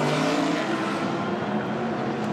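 Diecast scale model cars race down a gravity track in a GT tournament heat, giving a steady, loud, dense rolling roar with a faint whine that continues without a break.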